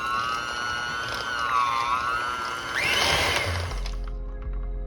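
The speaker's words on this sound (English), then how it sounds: "we're just gonna blend this up and get it doing what it's doing" A blender whirs through crab dip made with cream cheese, sour cream and seasoning, its close, loud motor whine wavering in pitch, then surging before it cuts off, leaving a low hum.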